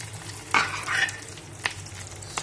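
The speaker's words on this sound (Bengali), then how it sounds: "তো তেল গরম হয়ে গেছিলো, তাড়াতাড়ি করে মাছের ডিমগুলো এক এক করে দিয়ে দিচ্ছি" Fish roe dropped piece by piece into hot oil, crackling and sizzling with sharp bursts as each one hits the pan, over a steady low fry.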